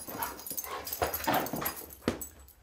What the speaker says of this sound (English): lets the dogs play amongst themselves